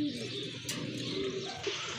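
Hyderabadi breed pigeons coo softly at close range, a few low rolling calls over a faint background.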